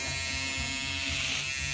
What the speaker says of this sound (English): I'll shave it right there